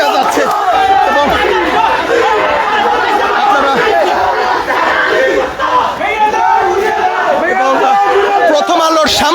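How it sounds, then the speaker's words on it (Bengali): Angry student protesters and a crowd chant slogans outside the Prothom Alo newspaper office in Karwan Bazar, Dhaka, a dense, loud roar of many voices shouting together continuously, close and unbroken. "প্রথম আলোর সামনে এসে স্লোগান দিচ্ছেন বিক্ষুব্ধ ছাত্র জনতা"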